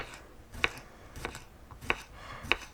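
A knife chops cucumber on a board in a few distinct, evenly spaced strikes, close and fairly quiet, with no talking.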